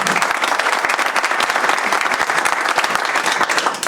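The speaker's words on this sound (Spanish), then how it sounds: "les pido un aplauso para ellos por permitirnos poder dialogar directamente" Audience applause at a business event honoring ministers, a dense, loud burst of clapping from a large crowd that continues steadily for a few seconds with no voice over it.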